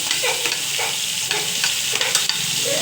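Finely chopped onion dropped into a hot pan for a sprouted moong usal, a steady loud sizzle with stirring scrapes and small clinks, close up and without speech.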